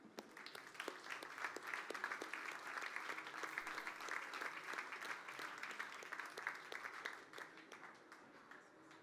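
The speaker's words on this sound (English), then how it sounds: "Please join me for an applause." Audience at a startup summit award ceremony applauds the award nominees, sustained even clapping from a large crowd throughout, with individual claps audible in the mix.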